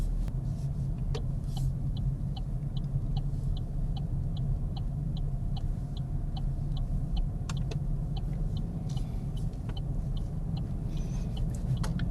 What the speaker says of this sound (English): so slowing down through the gears, getting the speed right first is really important